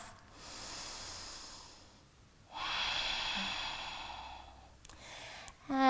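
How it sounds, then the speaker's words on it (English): Deep yoga breaths during a stretch, a breathy exhale then a longer, stronger inhale, close and alone, ending with a faint click. "Take one more full breath."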